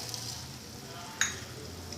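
Onion and fenugreek tamarind curry simmers in a pot, a faint, steady bubbling sizzle with one brief clink partway through and no talk.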